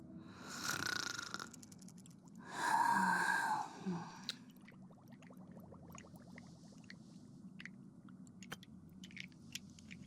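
A character in the Honkai: Star Rail video game snores twice, each time with a raspy, drawn-out breath. Quieter clicks and soft background noise follow the snores.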